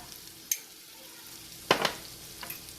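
Vegetables for a mutton stew are stirred in a pot with pepper powder, a faint simmering hiss broken by a couple of distinct scraping strokes of the spoon.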